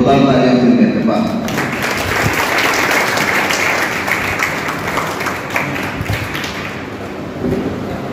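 Audience applause at a guidance lecture event, a sustained wash of clapping heard at moderate distance that fills the stretch, with a louder burst at the start and occasional thumps.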